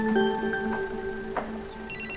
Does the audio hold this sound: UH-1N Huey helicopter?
no